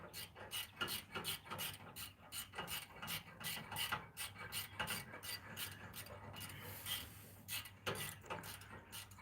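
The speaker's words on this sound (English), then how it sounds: "I'd crank it up and tighten it up, Steve." A hand ratchet tightening a bolt on a car muffler, giving rapid, close clicking bursts in repeated strokes with brief pauses between them, fairly faint overall.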